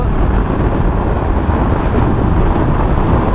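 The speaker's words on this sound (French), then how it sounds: "un vent pas possible" Strong wind in Morocco roars steadily across the microphone, a dense, constant rumble with no voices.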